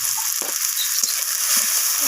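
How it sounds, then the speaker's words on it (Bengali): Spices sautéed with onion and tomato in a pan make a steady, close frying sizzle with a hissy texture. Faint stirring knocks sound underneath. "সমস্ত কিছু মশলা আমি পেঁয়াজ আর টমেটোর সাথে কষিয়ে নিচ্ছি"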